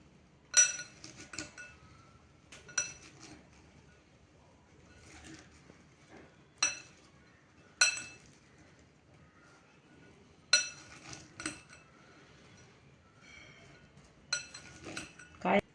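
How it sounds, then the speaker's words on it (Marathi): Green salad tossed in a bowl with two spoons, scattered sharp clinks and scrapes of metal against the dish at irregular intervals, near and fairly quiet with near-silent gaps between. "असं 2 चमच्याने मिक्स करायचं, म्हणजे मग छान मिक्स करता येतं"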